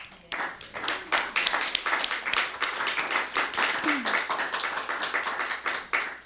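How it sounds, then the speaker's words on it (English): A small poetry-reading audience claps in a quick, uneven patter of distinct hand strikes, fairly close and moderately loud throughout, with faint voices underneath. "So I just wanted to actually give them a little round of applause."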